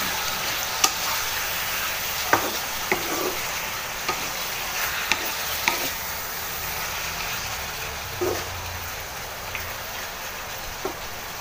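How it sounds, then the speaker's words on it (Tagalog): Meat sautés in a pan for pansit miki guisado with black pepper, a steady close sizzle running throughout, broken by occasional sharp ticks and pops from the stirring utensil. "Aantayin po natin siyang magisa po yung karne at maluto po yung ating karne"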